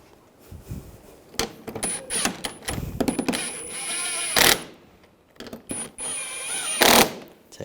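A fastener is tightened on the front grille of a 2013-2016 Dodge Dart, with quick bursts of ratcheting clicks separated by short pauses and a few louder mechanical clunks.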